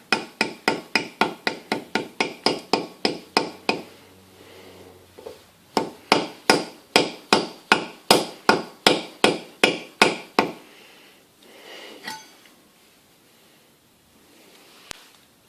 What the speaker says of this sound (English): use the back of this hammer and just gently start tapping it in there all the way around